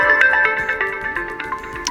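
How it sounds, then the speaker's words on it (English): A nature-themed ringtone plays on an OPPO Reno 14 FS 5G phone, a bright melodic run of chiming tones and short plucked notes, loud and close with no talking. "in order to listen how the particular ringtone sounds, you have to basically tap on it"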